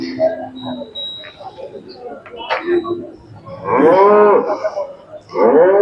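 Khillar cows moo loudly nearby, several long calls in a row, amid the murmur and scattered noises of a busy cattle market in Sangola, Maharashtra.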